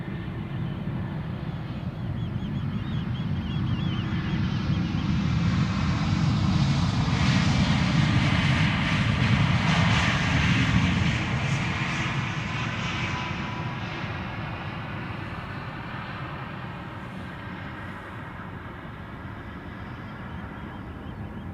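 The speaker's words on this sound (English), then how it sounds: "And there's Air France arriving from Paris Charles de Gaulle." An Air France Airbus A220 arriving at Schiphol Airport gives a sustained roar of jet engines that swells steadily to a peak near the middle, then slowly eases while staying loud and fairly close, with no voices over it.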